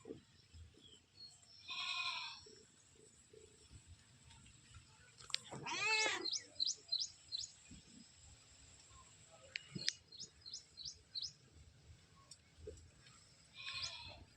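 Young kittens about twenty days old meow repeatedly in a home, with thin high-pitched cries in short bursts and clusters at close range over quiet background noise.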